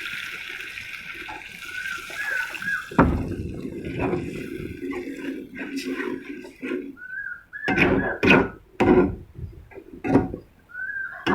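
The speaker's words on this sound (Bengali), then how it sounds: "এখন একটু দিয়ে দিব পরিমাণ মতো পানি" Water is poured into a pan of fried, braised pangas fish curry with a sudden splash and hiss, followed by bubbling and uneven spluttering bursts up close. A faint whistling tone sits in the background.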